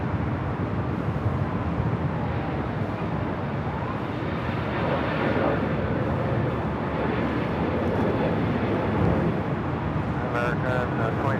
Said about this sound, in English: this A321neo rolls down 24 left